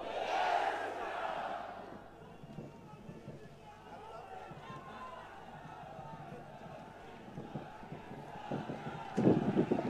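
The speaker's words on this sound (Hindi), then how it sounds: "एक बार आप मेरे साथ बोलेंगे, जय श्री राम, जय जय श्री राम।" A large rally crowd in Nokha chants Jai Shri Ram together at a public meeting addressed by a politician, a loud, roaring mass of voices outdoors with wind rumble, swelling at the start and surging again near the end.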